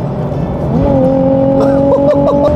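A JDM sports car shifts into fourth gear, engine note dropping briefly then climbing steadily as it pulls hard under acceleration, loud and close from inside the cabin.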